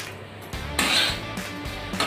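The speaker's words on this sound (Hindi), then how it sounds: "इसको लगातार चलाते रहना है" Ghee-roasted wheat flour stirred in a pan for Mohan Bhog, a spoon scraping and rubbing against the metal in steady close strokes, with soft clinks and a brighter scrape midway, no talk.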